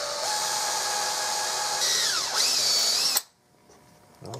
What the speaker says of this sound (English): I drill that hole smaller than what I need